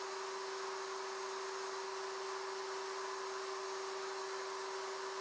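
A router cutting box joints in boards held in a Leigh RTJ400 jig, a continuous high-pitched motor whine with a steady tone throughout, no speech.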